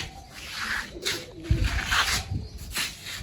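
Several pigeons coo softly nearby, low rolling throaty calls rising and falling in short bursts with a light rustle, no talking heard.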